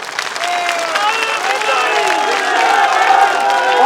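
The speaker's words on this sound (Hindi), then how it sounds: "जबरदस्त तालियां हो गई" A large crowd at an Indian political rally applauds and cheers: steady, dense clapping with whoops and shouts, holding at a loud level throughout.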